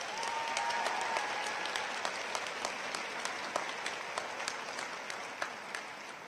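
Steady applause from a large audience at a community college commencement, a broad, even wash of clapping with a few sharper nearby claps standing out, continuing without letup.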